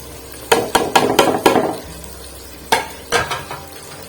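Spices stirred into frying tomato paste for egg korma: a quick run of sharp spoon knocks and scrapes against the pan, then a pause and a few more clinks, close and loud over a low sizzle.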